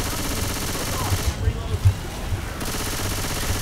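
Uzi submachine gun fire in Left 4 Dead 2, a few short bursts of low thudding shots in the middle of the stretch, set against steady game background noise and partly under talk.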